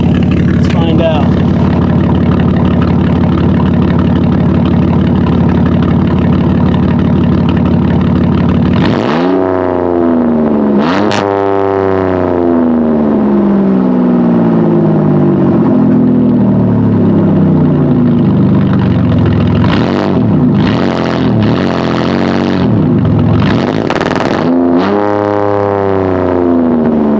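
A straight-piped Chrysler Town and Country 3.3 V6 with 194,000 miles starts by idling loudly, then revs repeatedly in drive in rising and falling sweeps. The engine is raw and close, and a person talks intermittently.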